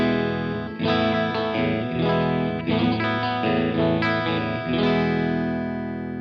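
A clean electric guitar tone modeled on a Marshall Plexi Super Lead through a Strymon Iridium, with ringing strummed chords and sustained notes played alone, moderately loud with a slight shimmer.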